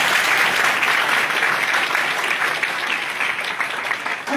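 An audience at a gathering gives steady, full applause for a board member named Amit, continuous dense clapping throughout with no talking over it.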